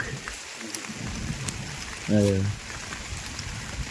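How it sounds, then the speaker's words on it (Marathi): Steady rain hisses across the whole recording, a dense broadband wash, with a brief louder tonal burst near the middle. "पाऊस लय आला"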